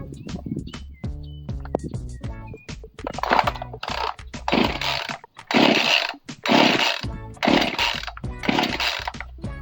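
Starter cord of a small engine pulled several times, each pull a sharp ratcheting burst of the engine turning over, separated by short gaps, close and fairly loud.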